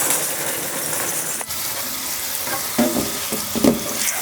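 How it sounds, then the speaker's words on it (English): Water poured over dusty terrarium charcoal makes a loud close hissing fizz, crackling like frying as air pockets fill, with a brief break partway and a few louder gurgling bursts near the end. "I love the sound that charcoal makes when you first water it"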